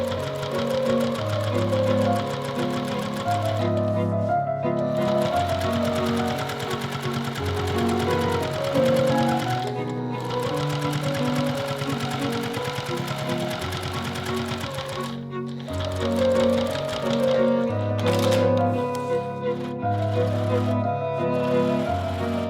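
A sewing machine stitches a quilted book sleeve, running in a fast continuous mechanical whir with brief pauses, loud and close, with no talking.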